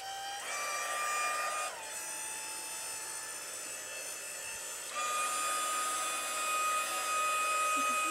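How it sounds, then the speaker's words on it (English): Handheld craft heat tool blowing on low heat for glass etching work, a steady close whine and airflow whose pitch shifts a few times as it is handled. "I'm going to shoot this with a low heat from my heat tool."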